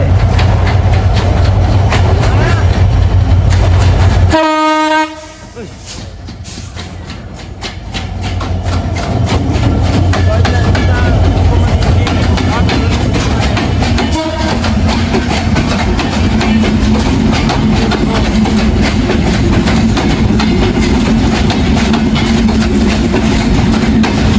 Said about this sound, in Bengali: রেল স্টেশনে এই মুহূর্তে প্রবেশ করতেছে ট্রেন না মালগাড়ি নাটোর রেল স্টেশনে প্রবেশ করতেছে